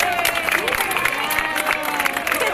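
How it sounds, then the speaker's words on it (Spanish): A Nickelodeon show audience claps and cheers for Dora the Explorer, a continuous noisy crowd wash of hands and excited voices with no clear gap. "Otro fuerte aplauso para Dora,"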